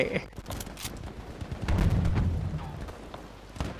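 Sharp bursts of gunfire and booming blasts from Battlefield V, scattered irregularly, with a heavier rumbling explosion in the middle.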